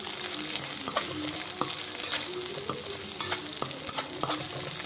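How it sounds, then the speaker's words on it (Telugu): Onions and curry leaves fry in a pan for brinjal sambar, a loud continuous sizzle with a spatula scraping and knocking the pan about once a second throughout. "సో తర్వాత కర్రీ లీవ్స్ కూడా వేసేసుకొని ఫ్రై చేసుకుంటున్నాను."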